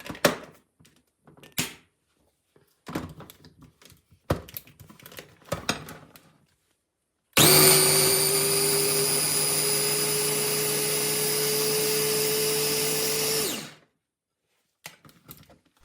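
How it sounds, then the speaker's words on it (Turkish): Scattered clattering and tapping, then a food processor blending whole unpeeled tomatoes whirs loudly and steadily for several seconds before stopping, followed by a few light knocks. "Şöyle iyice robottan geçiriyorum arkadaşlar."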